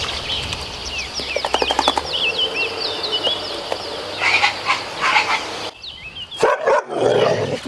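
A Malinois dog barks in a few quick bursts amid high chirping calls inside an apartment, then barks again more sharply near the end, fairly close.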